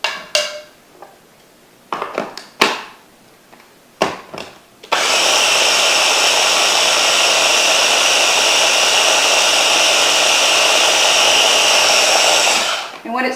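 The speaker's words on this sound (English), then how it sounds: "you can see it's getting nice and blended, and you want to make sure that it's nice and smooth" A countertop blender whirs loudly and steadily as it purees a healthy appetizer mixture, after a few short clattering bursts and knocks as it starts, running continuously for about eight seconds before cutting off.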